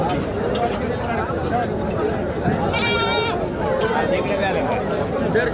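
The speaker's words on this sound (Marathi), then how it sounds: "बकरा" A goat bleats once amid the busy chatter of a crowded goat market in Kashti, Maharashtra, the wavering cry standing out briefly over continuous talk and bustle.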